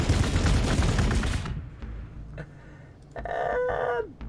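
Gunfire in the Warhammer 40000: Gladius strategy video game, a dense loud volley for the first second and a half, then sparse impacts and a tonal effect sound.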